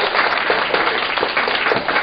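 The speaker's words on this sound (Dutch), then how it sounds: "Dan mag je best even een heel groot applaus voor jezelf geven" A crowd of young people applauding at a Sinterklaas celebration in a youth centre in Dokkum, steady loud clapping throughout with no pauses.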